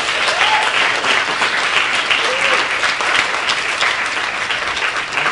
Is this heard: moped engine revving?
no